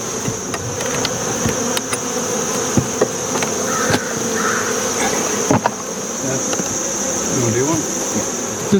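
Honey bees buzzing around an open hive during a late-summer inspection of a colony treated with Apiguard thymol for mites, a dense, steady drone with a high whine, close by, punctuated by scattered light clicks and knocks.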